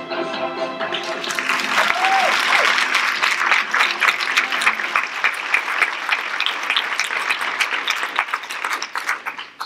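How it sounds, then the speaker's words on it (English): Audience applause at an annual report event rises quickly and holds as a dense, loud wash of clapping from a large crowd, with a brief voice at the start and the clapping thinning slightly toward the end. "So that applause is for you guys, because that's your stuff."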